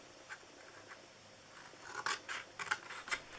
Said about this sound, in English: So you're going to just cut off these 2 rectangles here.